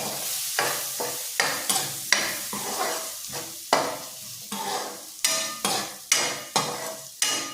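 Potatoes and pre-boiled clams are stirred and sautéed in a pan, with repeated scraping stirs every half second or so over a constant close sizzle.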